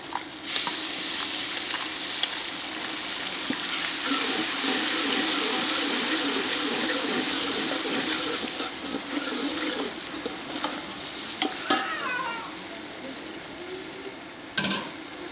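Steady sizzling as ginger garlic paste fries with spices in a hot pan, with occasional stirring scrapes and clinks of a utensil against the pot.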